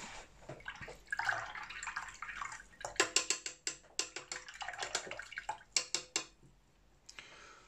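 Brush rinsing and tapping in a water jar during a Holbein watercolour painting session: sloshing swirls broken by a quick series of sharp clinks and taps against the container, close up and without speech.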